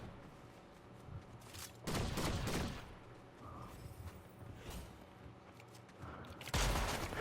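Shotgun fire in the video game Fortnite: a few separated loud blasts, each a short burst with a rattling tail, against quiet game ambience.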